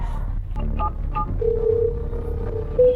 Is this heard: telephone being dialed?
yes